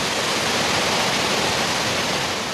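Huge volumes of Arctic meltwater rush through in a steady, loud, close roar of churning water that holds constant throughout with no pauses.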